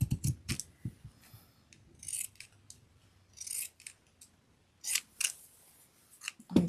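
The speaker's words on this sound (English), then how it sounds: "now I'm just going to cut out the square with my pinking shears" Pinking shears cut a square out of fabric in a series of crisp, close snips, arriving in short clustered bursts separated by brief pauses.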